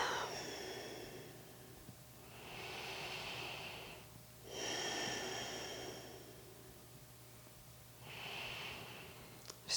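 Slow, deep breathing during a seated yoga butterfly pose, three long, soft breaths heard close and quiet, with steady pauses between them.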